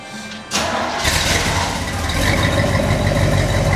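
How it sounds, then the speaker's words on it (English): A 1967 Corvette Stingray with its numbers-matching 327-300 V8 and 4-speed cranks briefly, then catches and settles into a loud, steady idle close by, rumbling evenly to the end. "Beautiful sweet purr of the numbers matching 327-300. Same engine it was in it back in the day."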